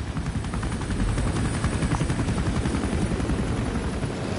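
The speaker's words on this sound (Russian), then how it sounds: "Какой красивый вертолет." A helicopter flies in the video game Metal Gear Solid V, with a loud, continuous rotor chop and engine whine holding steady throughout.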